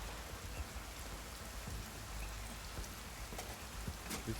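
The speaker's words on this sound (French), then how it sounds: "Par contre ça pleut vraiment beaucoup." Heavy rain pours steadily in the Watch Dogs Legion video game, a dense, even hiss of drops beating on surfaces with no voices over it.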